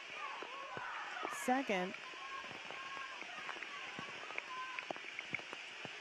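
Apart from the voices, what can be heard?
heavy rain pouring down at a football match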